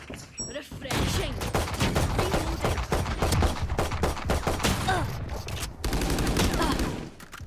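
Sustained rapid gunfire in the tactical shooter Valorant, a dense stream of close, loud shots rattling almost continuously for several seconds, with a brief pause before another burst.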